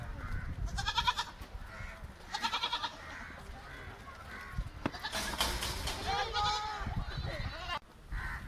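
Goats on a goat farm returning to their shed in the evening bleat repeatedly and overlap near and farther off, with someone talking beneath the calls.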